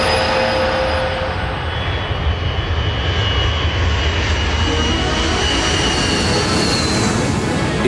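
Iranian passenger jet in flight, a loud steady roar of engine noise that stays constant and close throughout, with no voices.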